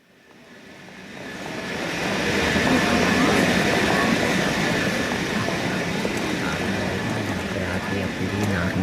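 A steam train runs steadily in a period radio drama, a dense rumbling clatter that swells in over the first seconds and then holds at a loud, continuous level.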